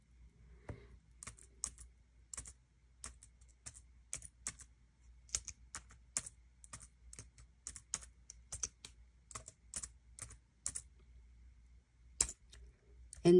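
Someone types on a computer keyboard and then presses the enter key, making quiet, close, irregular key clicks in quick bursts with short pauses.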